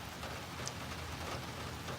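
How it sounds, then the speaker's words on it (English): Rain falling steadily outdoors during a storm, a constant soft hiss of drops with a few louder splashes, heard alone without talk. "since it's raining here"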